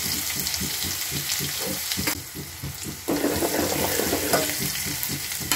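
Crushed garlic drops into hot oil already crackling with cumin, mustard seeds and asafoetida for a dal tempering, a loud, close, continuous sizzle that dips briefly and then surges back stronger.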